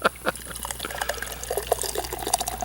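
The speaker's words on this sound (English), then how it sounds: "it's almost clear pouring out of the can there" Dry-hopped pilsner beer pours from a can into a glass, a close, steady liquid trickle and splash with small fizzy bubbling that continues throughout without any talking.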